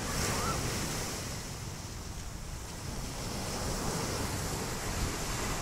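Ocean surf washes onto a sandy beach in Alanya, Turkey, making a continuous broad rush of breaking waves mixed with wind noise. No one speaks.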